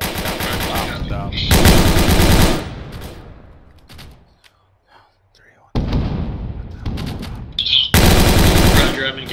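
Machine-gun fire in the ARMA 3 military game: loud, close bursts of rapid shots come in three sharp blocks, separated by a quieter stretch, with voices talking between them.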